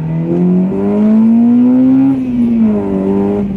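A car engine, freshly fitted with a new throttle position sensor, revs up in one long rising pull and eases back, loud and close, with no talking over it.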